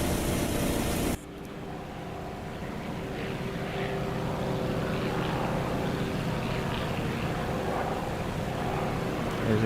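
Continuous propeller engine drone of a WW2 aircraft in the DCS flight sim, a steady loud rumble after an abrupt change in the first second, holding level to the end with no talk.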